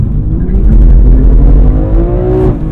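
BMW M2 with traction control off, sliding sideways across a huge empty parking lot; a loud, steady engine roar holds high revs throughout with a rising whine near the end.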